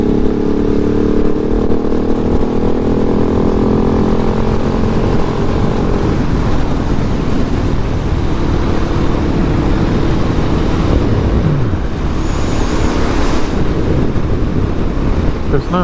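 A 2019 KTM 690 SMCR motorcycle rides along on a commute, its engine droning steadily under heavy wind rush, with a rising pitch at one point, loud and close throughout.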